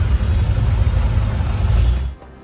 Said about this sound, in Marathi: पण कात्रज चौकातच मेन एवढं ट्रॅफिक लागले